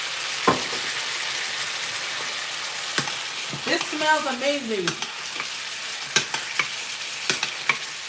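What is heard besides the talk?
chicken sizzling in a pan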